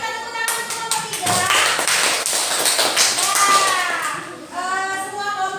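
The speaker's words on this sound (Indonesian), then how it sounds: "Kita tepuk tangan untuk kelompok 3" Group 3 gets a round of applause in a classroom, a burst of dense hand clapping from many pupils, loud and close, with children's voices over it.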